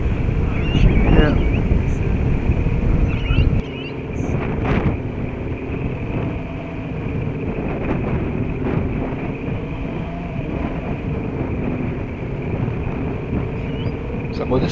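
Wind roars steadily past a Syma X8 quadcopter shell fitted with Bugs 3 parts as it hovers facing into the gusts outdoors, a loud continuous rushing with buffeting, and a brief voice near the start.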